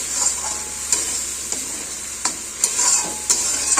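Masala is being stir-fried (kosha) in a pan for masala chilli paneer, cooked without turmeric. A steady sizzle runs throughout, punctuated by roughly eight sharp scraping stirs at irregular intervals, close and fairly loud.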